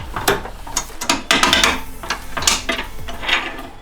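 Close, loud ratcheting from a socket wrench tightening a light bar onto a rally Toyota Supra, a steady stream of rapid clicks in short repeated strokes.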